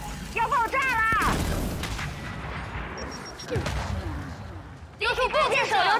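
A frag grenade blows up in the Gears 5 shooter, a heavy broadband blast with a rumbling tail amid gunfire, while in-game character voices call out before and after.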